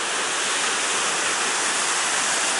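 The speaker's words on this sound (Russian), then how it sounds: "Смотрите, друзья, насколько бурно вот эта река спускается оттуда." A turbulent mountain river in Benoy, Chechnya rushes downhill in a loud, steady roar of whitewater that fills the whole span with dense broadband noise and no pauses.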